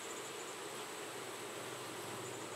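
Honeybees around an open hive make a faint, steady, continuous buzzing hum with no clear pauses, heard alone and at low volume.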